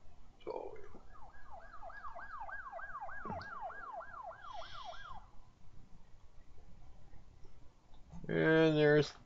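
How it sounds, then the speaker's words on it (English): An ambulance siren in the Project Hospital video game sweeps up and down in a steady wail for several seconds, moderately loud, followed by a brief tonal game chime at the end. "And there's the ambulance."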